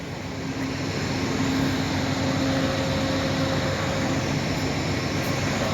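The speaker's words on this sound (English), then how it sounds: "And we start off with the 2 Genesis engines over here." Two Amtrak P42 Genesis diesel locomotives idling at a station before a night Texas Eagle departure, a loud steady engine rumble with a faint constant tonal whine, no breaks throughout.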